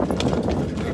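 Horse hooves clip-clop briefly on a cart ride near the Giza pyramids, close by and steady under crowd chatter and voices.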